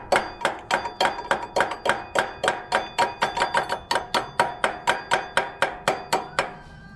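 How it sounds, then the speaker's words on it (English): Carburetor float bowl struck repeatedly with a screwdriver handle: about twenty-five sharp metallic knocks in a brisk, steady rhythm, close and clear with no talk. "whack the bowl a bunch of times with some"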